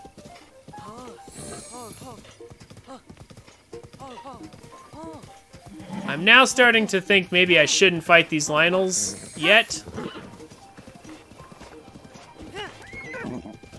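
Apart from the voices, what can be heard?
horse hooves galloping in video game Breath of the Wild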